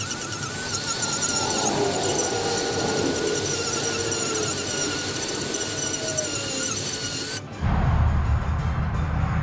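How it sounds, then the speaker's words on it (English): A Dremel rotary tool carves a wooden owl with a continuous high whining, rasping grind that runs steadily for several seconds, then cuts off into a duller, lower scraping noise near the end. "I'm gonna use the Dremel, okay?"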